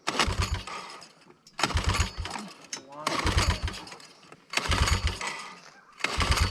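Vintage Yamaha Moto 4 ATV engine being cranked over to start, repeated bursts of rough, loud mechanical churning separated by short pauses, as if failing to catch.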